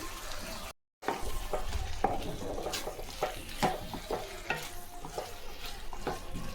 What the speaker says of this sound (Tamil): இந்த தக்காளி வெங்காயம்லாம் நல்லா வேகட்டும்.